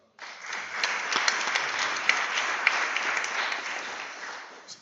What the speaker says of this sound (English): Please clap that up.